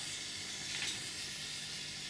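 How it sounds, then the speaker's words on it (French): A facial steamer machine gives off a steady, soft hiss of steam that holds evenly for the whole moment with no other sounds. "On ne le voit pas, mais la vapeur, elle est là."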